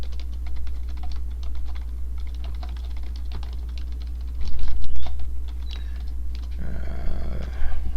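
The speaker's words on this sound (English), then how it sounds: "I'm just typing in some stuff on TikTok" Rapid clicking keystrokes on a computer keyboard patter close by in irregular bursts over a steady low hum, with a brief louder shuffle near the end.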